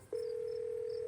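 A phone call in the Scarlet Hollow video game emits a steady, unbroken electronic tone that starts abruptly and holds at an even level after a brief quiet moment.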